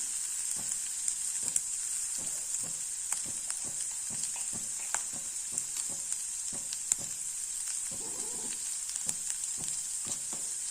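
Capsicum sautéing in a pan for capsicum rice gives a steady, fairly quiet sizzle throughout, with soft clicks and taps of stirring scattered over it and no talking.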